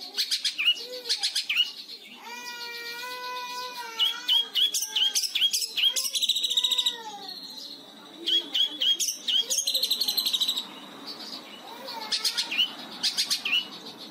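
A cendet (shrike) songbird from Sepudi Island, Madura sings loudly and close, with varied whistles, trills and rapid chirping phrases repeating over several seconds.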